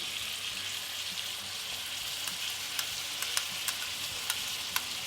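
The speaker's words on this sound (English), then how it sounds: "Stir them well and keep cooking it for 10 minutes, frequently stirring in between." Chicken liver with pepper and cumin powder sizzles steadily in a pan, a dense close frying hiss broken by a few faint clicks of stirring, with no voices.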